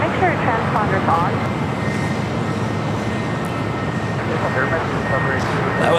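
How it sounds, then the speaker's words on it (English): An American Airlines Airbus A321neo arriving at LAX from Charlotte, a steady broad jet roar rumbling continuously throughout, with faint radio chatter and voices underneath. "That was American Airlines flight 986 coming in from Charlotte in an A321 Neo."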